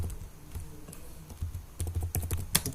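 Quick keystrokes tap on a computer keyboard while a search term goes into the Chrome Web Store box. The clicks are close and get denser and louder toward the end, with no talk over them.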